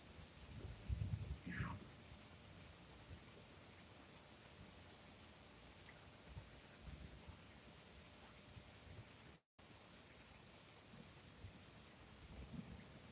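A thunderstorm brings steady rain hissing on surfaces, with a low rumble of thunder early on and a brief dropout near the end; no voices are heard.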